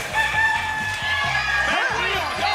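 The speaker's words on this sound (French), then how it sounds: "Le chant du coq" A rooster crowing sound effect on a TV game show, with a single loud, drawn-out cock-a-doodle-doo ringing out clearly over a faint studio background.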